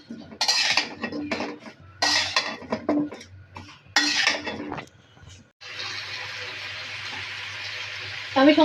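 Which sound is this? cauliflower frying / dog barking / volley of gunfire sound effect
cauliflower frying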